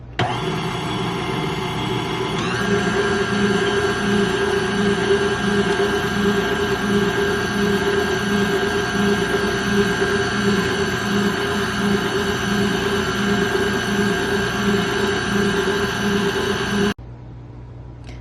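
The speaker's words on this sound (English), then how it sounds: "Now we're going to go ahead and turn on the mixer." An electric stand mixer whirs steadily while beating vanilla cake batter, a continuous close motor hum with a brief speed change early on and an abrupt stop near the end.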